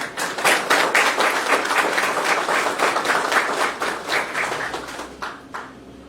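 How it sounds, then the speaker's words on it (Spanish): A crowd claps steadily in sustained applause at the inauguration of a court, tapering off near the end, with no talking over it. "Le brindamos un fuerte aplauso."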